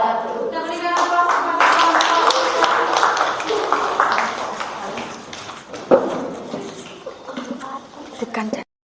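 An audience applauds at a school event, with dense, loud clapping that holds for several seconds, then thins out and fades to scattered claps as voices carry underneath.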